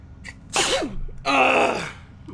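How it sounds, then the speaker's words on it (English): One person sneezes twice in quick succession, close and loud, each burst a sharp breathy explosion after a short intake, with quiet game ambience underneath. "My bad, had to sneeze."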